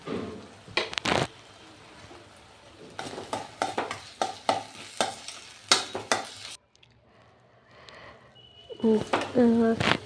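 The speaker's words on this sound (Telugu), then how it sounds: "ఇంకా అందులోనికి కర్రీకి సరిపడినంత కారంని వేసి కలుపుతున్నాను." Spatula stirring fried tomato curry with chili powder in a pan, scraping and clattering in repeated strokes with soft sizzling underneath, pausing briefly before a louder burst of stirring at the end.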